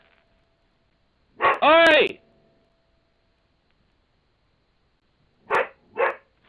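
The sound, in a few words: husky dog barking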